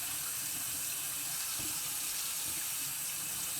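Warm water runs steadily from a tap during a rinse of locs, a constant close hiss with no voice over it.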